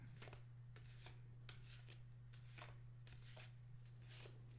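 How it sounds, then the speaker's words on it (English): Cards are shuffled in a series of quick riffling bursts, close and crisp, over a steady low electrical hum. "Just a little more shuffling."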